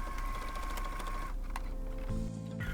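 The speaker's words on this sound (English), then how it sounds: "I'm just slowing way down when I go over the pins, making sure that the needle doesn't hit them" Domestic sewing machine running slowly while stitching a dress over pinned fabric, a steady close motor whir with a speed change near the end, no talk.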